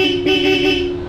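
Bosch Europa loud horn fitted to a Honda ADV160 scooter gives one sustained, loud, nasal honk about a second long, heard close and alone.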